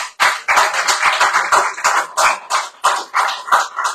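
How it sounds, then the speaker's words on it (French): Audience applause in a bistro-style radio show setting, a dense run of claps with sharp individual hits standing out, steady and close throughout with no talking. "Alors on applaudit Lolo, voilà."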